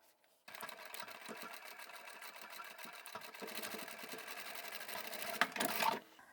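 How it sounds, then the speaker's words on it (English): A sewing machine stitches straight across a seam in fabric cut from old men's ties, a steady fast mechanical whirr running continuously at close range with a brief louder burst near the end, no talking. "place the fabric back under the machine and stitch straight across."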